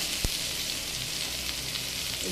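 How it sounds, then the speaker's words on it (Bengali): Eggplant and potato fry in a pan with a steady, dense sizzle that holds evenly throughout, close and moderately loud, with one brief knock near the start. "দেখুন, বেগুনের কালার কিন্তু চেঞ্জ হয়ে গিয়েছে আর আলুটাও ভাজতে ভাজতে হাফ সিদ্ধ হয়ে গিয়েছে।"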